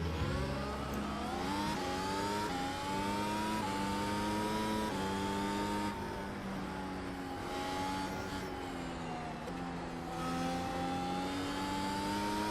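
Mercedes-AMG F1 car engine in the iRacing sim screams steadily at high revs, climbing through repeated upshifts with brief dips between gears, loud and continuous with no talking.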